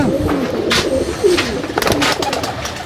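Moulting pigeons kept at home coo nearby in a steady series of soft, rolling calls, with a few sharper taps and rustles between them and no talk.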